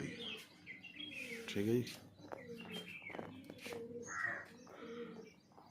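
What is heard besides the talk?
pigeons cooing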